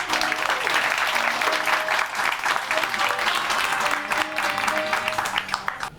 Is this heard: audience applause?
yes